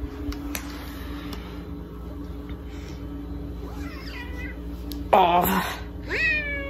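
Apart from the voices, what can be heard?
cat purring and meowing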